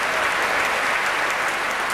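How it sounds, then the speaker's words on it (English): A concert hall audience at the BBC Proms gives a dense, steady wash of applause as conductor Michael Tilson Thomas walks on stage to lead the San Francisco Symphony, continuous and loud throughout. "applause greeting Michael Tilson Thomas, coming on stage to conduct his own San Francisco Symphony"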